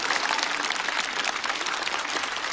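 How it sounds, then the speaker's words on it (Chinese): A studio audience at a stand-up comedy show breaks into applause for a comedian, bright, dense clapping from a large crowd sustained at full strength. "掌声送给白小白"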